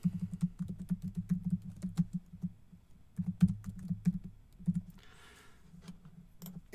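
Fingers tap out a class name on a computer keyboard in quick, uneven bursts of close clicking keystrokes, with short pauses between runs and a soft hiss toward the end.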